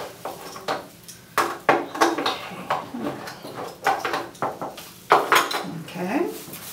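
A spoon stirring and scraping oatmeal in a pot, irregular clanks and metallic knocks against the pot sides, close and fairly loud, with some talk around the strokes.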